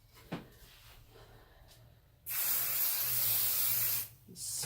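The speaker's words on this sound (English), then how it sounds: "Spray that down" Spray bottle misting fabric for a window seat cover, a single steady hiss lasting nearly two seconds, close and loud after a few faint handling taps.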